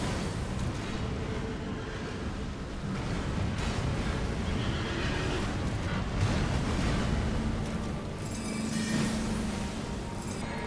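Horse neighs and whinnies ring out over a dense, continuous rumble of boss-fight action in Elden Ring's DLC, with the horse calls recurring throughout.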